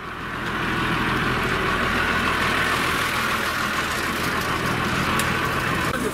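A tractor engine idles steadily at a roadside stop in Kurdistan, a continuous close, loud low rumble with no breaks.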